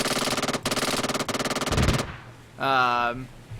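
Rapid, sustained fire from a 20mm minigun in a G.I. Joe-themed video game mod, loud and close in a long burst with a brief break, then a short spoken voice after it stops.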